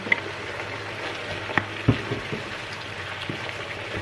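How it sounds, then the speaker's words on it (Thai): Soft sizzling as pork and onions stir-fry in a pan, a steady hiss with a couple of clinks of a utensil stirring. "ผัดหมูกับหัวหอมใหญ่นะจ๊ะ"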